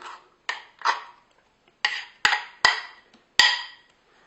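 Cake batter being dumped from a bowl into a greased cake pan, with a series of sharp scraping knocks of a utensil against the dish, about seven separate strokes, close and distinct.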